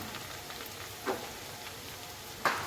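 Soft, steady sizzle of garlic and ginger frying in hot oil for a homemade fish pickle, close and quiet, with two brief louder crackles over a continuous frying hiss.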